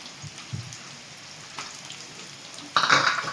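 Ginger sizzles in hot oil in a pan for a Nagercoil anchovy fry, a faint light crackle with a few soft knocks, then a louder burst of hissing sizzle near the end as garlic goes in.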